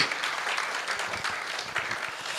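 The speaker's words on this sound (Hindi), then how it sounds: "तो इसके लिए और ये भाई साहब के लिए तालियां बजाओ" Audience applause fills a hall at a business seminar, steady dense clapping from many hands, loud and continuous throughout with no talking over it.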